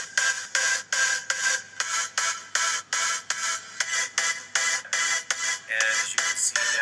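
Music loop played in GarageBand, a bright, choppy rhythmic track with evenly pulsing bursts of sound repeating at a quick tempo, moderately loud and with no voice over it.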